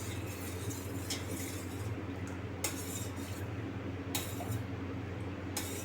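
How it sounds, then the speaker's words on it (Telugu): A spoon stirs curd into milk in a bowl, giving a steady low swirling sound broken by a few sharp metallic clinks against the sides. "పాలలో పెరుగు అంతా కలిసే వరకు కలుపుకోవాలి"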